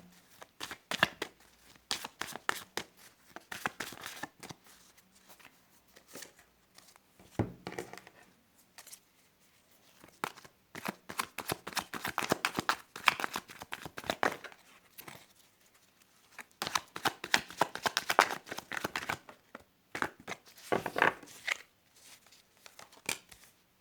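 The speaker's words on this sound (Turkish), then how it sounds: "Haydi karıştırıyorum kartlarımı." Tarot cards are shuffled by hand in repeated bursts of riffling and slapping, crisp papery clatter separated by short pauses.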